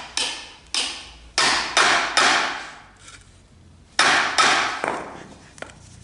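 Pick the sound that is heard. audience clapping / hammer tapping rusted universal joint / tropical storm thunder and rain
hammer tapping rusted universal joint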